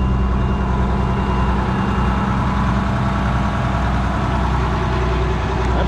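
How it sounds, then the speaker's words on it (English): An old Air Force cabover truck engine idles loud and close, a steady deep rumble with constant low throbbing and no break, and no one speaking over it. "That's a good sounding old truck."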